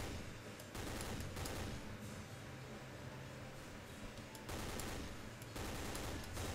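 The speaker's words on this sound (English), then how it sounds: "I got a freaking machine gun" Machine gun fire in the World War II shooter Day of Defeat: loud, dense, sustained bursts of rapid shots that run almost continuously, with a couple of brief pauses between volleys.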